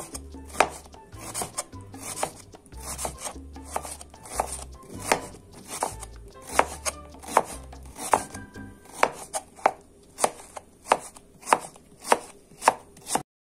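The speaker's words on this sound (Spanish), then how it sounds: "Picar la cebolla morada." A knife chops red onion on a cutting board, crisp repeated taps in an irregular rhythm that grow faster and more regular toward the end, close and clear with no talking.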